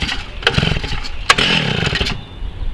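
A Stihl TS 760 14-inch gas cutoff concrete saw sputters and catches on a pull start, with choke on, short raspy engine bursts rising into a loud, close two-stroke roar.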